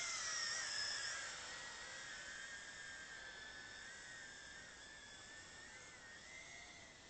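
A Tarantula X6 drone flies outdoors in calm weather. Its rotors give off a steady, high-pitched whine that holds for the whole stretch and fades only slightly.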